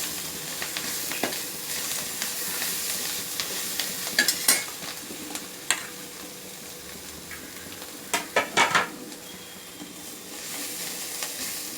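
Spinach (keerai) sautéing in a pan for an egg dosa, with a steady soft sizzle and hiss under scattered stirring scrapes that come in short clusters, close and alone without any voices.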